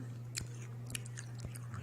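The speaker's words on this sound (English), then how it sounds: "chewing on a cayenne pepper here." Close, quiet crunching bites and chewing on a dry cayenne pepper, irregular crisp snaps over a low steady hum.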